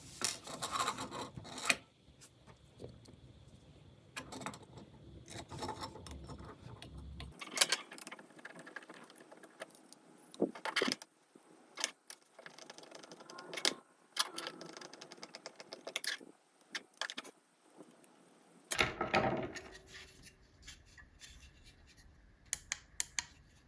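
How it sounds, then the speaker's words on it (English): Screws are driven by hand into a small camera board while a CamThink NeoEyes NE301 camera is assembled, giving quiet, intermittent rasping and scraping bursts close to the microphone. "Let's attach the board with these screws."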